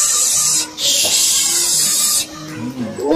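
A voice imitates a pressure cooker whistle, giving a loud, sustained hissing shriek that runs for about two seconds and then trails off into breathy noises.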